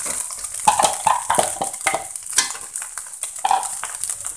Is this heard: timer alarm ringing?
no